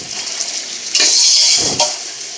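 Masala for pulao biryani, with mint and green chilies, frying in a pot: a steady close hiss of sizzling with a couple of brief scraping stirs and a clink, without speech.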